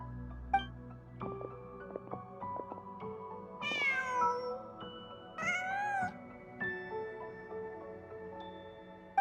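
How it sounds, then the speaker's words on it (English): A cat meows in a video game, two drawn-out rising-falling meows standing out over a soft, layered game soundtrack of sustained tones and chimes. "Just a cat."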